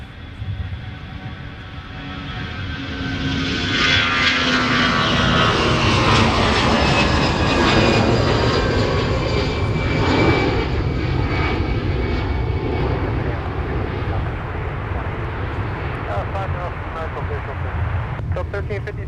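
Aircraft engines at Minneapolis–Saint Paul airport give a loud, sustained jet roar that swells up and then holds steady, with voices faintly audible beneath it.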